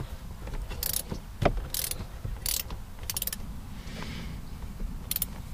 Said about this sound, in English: now we're gonna go ahead and undo the bolt that's connected to the shifter.